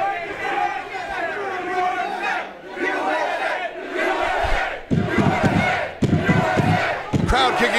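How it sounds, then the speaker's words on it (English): A wrestling crowd roars and chants USA together, loud and close, in rhythmic swelling bursts with some scattered shouting throughout. "Crowd kicking into its USA chant"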